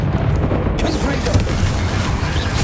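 Confringo fire spell blasting in Hogwarts Legacy on PC, a loud, dense fiery burst layered over constant battle noise, with a voice shouting during the combat.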